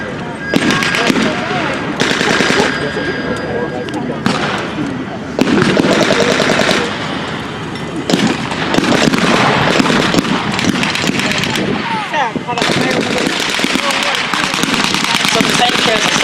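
Loud machine gun fire at an outdoor World War 1 reenactment, long sustained bursts separated by brief pauses, with crowd voices faintly underneath.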